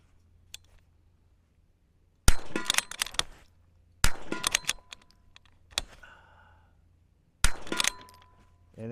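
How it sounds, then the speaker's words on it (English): A Zermatt Rim-X rimfire rifle fires several quick shots at 50 yards, each a sharp crack with a clattering tail, coming in about four bursts with short quiet pauses between them. "Let's go ahead and give it a couple shots here at 50 yards and kind of run it pretty fast."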